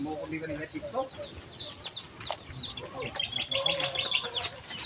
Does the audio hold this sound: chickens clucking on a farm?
yes